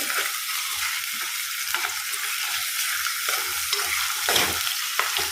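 Fish frying in plenty of coconut oil with ginger and chillies, a steady close crackling sizzle throughout with occasional stirring scrapes in the pan.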